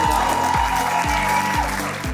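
Audience applause at the awards ceremony of the 2022 Bermuda Billfish Blast fishing tournament in Bermuda, a steady dense wash of clapping throughout with a rhythmic low thumping music beat underneath.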